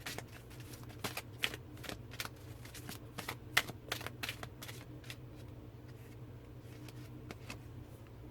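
A deck of Tree Angel Oracle cards being shuffled close up, with a rapid run of soft riffling flicks and taps repeating steadily throughout over quiet room tone.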